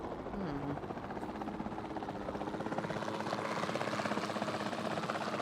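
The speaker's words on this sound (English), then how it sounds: "Then the sensible thing is to take a capture team helicopter." Capture team helicopter in the video game Jurassic World Evolution 2, its rotor thumping in a steady rapid pulse over a low engine drone, holding close and even throughout.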